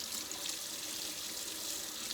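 A tap runs warm water into a sink in a steady, hissing stream. The flow is soft and continuous throughout with no voices.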